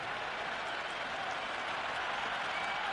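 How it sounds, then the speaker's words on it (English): A large crowd at a T20 cricket match applauds and cheers in a dense, steady roar of clapping that holds evenly for the whole stretch, heard from within the stands. "It's almost palpable, the excitement emanating from this crowd at the moment."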